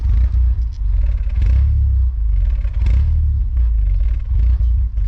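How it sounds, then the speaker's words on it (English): Rough-running Volkswagen Golf wagon engine with the RPM bouncing, a loud, close, low rumble that swells and dips irregularly with clattering over it and no talking. "So the wagon's been running a bit rough. You can see the RPM kind of bouncing there."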